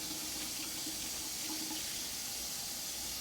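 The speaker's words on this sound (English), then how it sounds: "Rinse both hands, fingertips facing down." Tap water runs steadily into a sink while both hands are rinsed during handwashing, a constant close splashing rush with no pauses and no voices.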